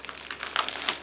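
A plastic bag from a 1/48 scale Bf 109F-2 model kit crinkles while being handled, with quick bright rustles and crackles, close up and without talk.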